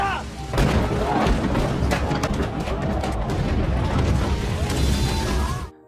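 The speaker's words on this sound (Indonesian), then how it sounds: "tiba-tiba gerobak itu meledak" A cart explodes in a Korean historical drama film scene: a loud booming blast followed by sustained crashing, rumbling debris and chaotic noise that holds strong for several seconds before cutting off abruptly.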